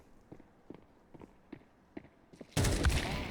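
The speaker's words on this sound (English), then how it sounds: "We'll see an attempt, and a good shot, though, on the first player" Counter-Strike 2 wingman match: quick in-game footsteps patter, then a sudden loud burst of close gunfire fills the end.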